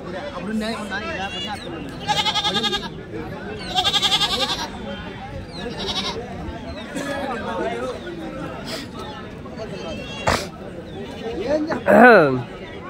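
Goats bleating repeatedly at a busy outdoor weekly goat market in Kadiri, several loud nearby bleats breaking through constant bargaining chatter and voices of the crowd.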